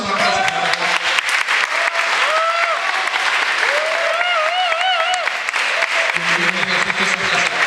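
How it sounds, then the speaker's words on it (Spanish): A church congregation claps to welcome first-time visitors, sustained applause with cheering and a voice rising over it, before talk resumes at the end. "Vamos a darles un aplauso."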